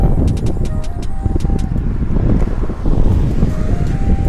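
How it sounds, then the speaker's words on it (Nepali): Steady wind rushes and buffets the microphone in a loud, continuous roar, with a faint high tone drifting through. "अलिकतिमा हावा लाग्यो कि यहाँ यार"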